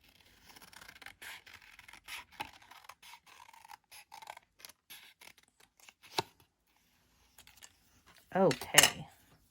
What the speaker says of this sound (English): So we are just gonna fussy cut, mimicking the edge of the stamp because it's got little curves in it.